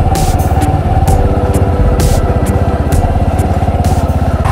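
A Bajaj Boxer 150 motorcycle idles in the winter woods at about -3 °C, its single-cylinder engine chugging in a fast, even, loud putter close by, with sharp clicks and knocks cutting through at intervals.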